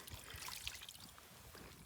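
Water poured from close by over a common carp held out of the water on a fishing bank, a soft continuous trickle and splash lasting the whole moment, fairly quiet.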